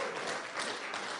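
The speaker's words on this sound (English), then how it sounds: "Yes, you're all clapping." A church congregation claps during a sermon, a brief, even burst of many hands heard from within the room.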